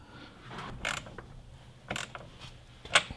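A nut being tightened onto a small bolt on a roller ski mount: faint, scattered metallic clicks and a few creaking scrapes of the parts, close, with quiet pauses between and no talking.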